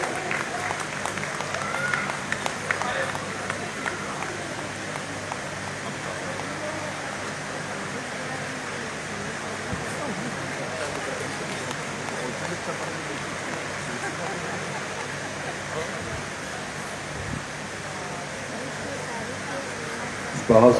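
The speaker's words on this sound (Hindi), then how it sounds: "एक बार भाई जोरदार ताली बजा दो भैया।" An audience at a Hindi poetry book launch and awards ceremony applauds with sustained, dense clapping that runs steadily for about twenty seconds. Voices murmur faintly underneath.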